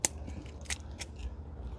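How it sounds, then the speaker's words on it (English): Sorrel plants being cut in a home garden, heard as a few crisp, close snips and crunches of stems, fairly faint over a low background hum. "I'm gonna cut more sorrel."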